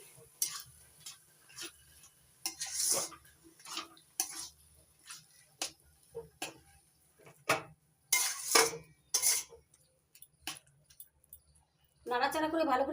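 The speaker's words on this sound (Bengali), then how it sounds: "নাড়াচাড়া করে ভালো করে মিশিয়ে নেবো" A utensil scrapes and clinks against a pan while shrimp and water lily curry is stirred with a half spoon of sugar. The scrapes come in irregular bursts, close and moderately loud, and a voice speaks briefly near the end.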